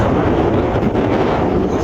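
Steady, broadband wind roar buffets the microphone throughout, loud and continuous with no pauses or talking.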